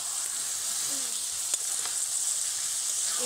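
Long beans sautéing in spice paste in a pan, an even close sizzle holding steady throughout with a faint tap or two of a utensil.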